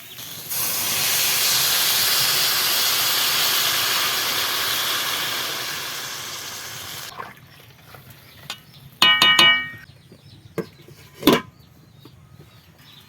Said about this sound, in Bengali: পুরোপুরি কষাই হয়ে গেছে, এবার আমি জল দিয়ে দেব।